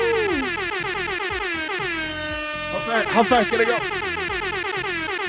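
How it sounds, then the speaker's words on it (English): A loud air horn sound effect blasts as a donation alert during a live talk show, its long sustained tone sounding over continuous speech before a burst of cheering noise. "Where's the air horns?"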